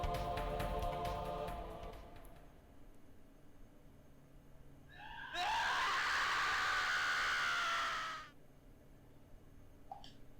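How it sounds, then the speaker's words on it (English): A man's long, shrill scream in the horror game Gakkou de Atta Kowai Hanashi S bursts out loud after a quieter stretch, holding for about three seconds before cutting off in a dark old school building. "Mr. Sakurai's screams echoed throughout the dark school."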